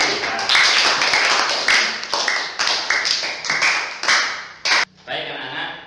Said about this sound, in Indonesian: Tepuk tangan untuk Randy.